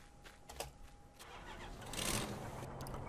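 A tank engine in the video game Running With Rifles cranks and catches, its rumble swelling to a steady, louder drone that holds through the end.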